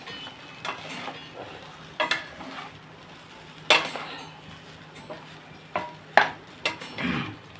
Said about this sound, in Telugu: మనం ఇలా కలుపుకుంటే అండి ప్రాన్స్ వేసాం కదండి, పచ్చిరొయ్యలు